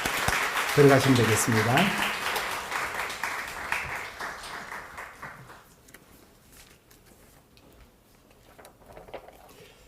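A church congregation applauds during a Sunday service, clapping fading out over several seconds while someone speaks over it.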